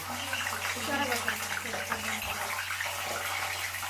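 Brinjal slices, coated for North Karnataka bajji, slip one at a time into hot oil and set off a steady, broad frying hiss that runs throughout, with a voice talking over it.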